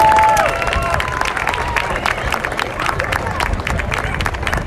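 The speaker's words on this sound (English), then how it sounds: "One more quick round of applause for everybody up here" A crowd at a charity 5K walk for blood cancer gives a brief round of applause, dense and steady clapping with scattered cheers, after an announcer's voice at the start.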